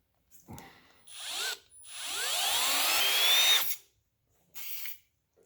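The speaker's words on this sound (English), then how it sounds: "I'm kind of drilling into these other pins that I've already put in" A power drill whines in bursts, rising in pitch as it bites into metal repair pins in a cracked Ford 390 FE big block engine, with short pauses between runs and a ratcheting edge.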